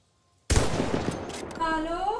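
A sudden burst of rapid automatic gunfire in Battlefield starts after a moment of silence and keeps rattling loudly, with a high whine rising near the end.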